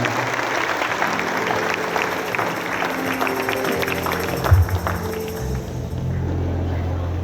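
A church congregation claps continuously with dense, steady applause, some voices and low tones mixed underneath.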